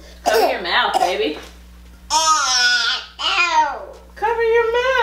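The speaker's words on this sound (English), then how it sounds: "Coughing all into the air and stuff." A toddler coughs several times in short bursts, close and loud, with babbling, whiny vocal sounds between the coughs.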